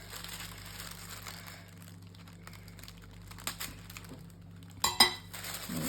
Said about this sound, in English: And let me just cut that.